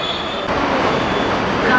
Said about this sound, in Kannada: ಸೊ ಮುಂಬೈಯಲ್ಲಿರೋ ಮಾನೋ ರೈಲ್ನು ನಿಮಗೆ ತೋರಿಸ್ತೀನಿ